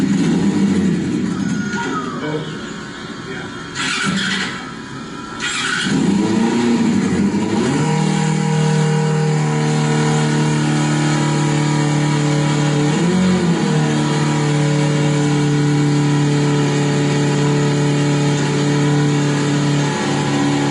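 A team-built race car engine fires up for its first run, revving in uneven bursts before holding a loud, steady droning tone, with faint voices in the background.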